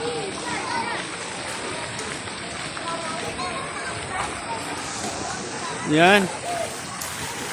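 Water falls pouring into a water park pool, a steady broad rushing splash throughout, with people talking over it and a brief shout near the end.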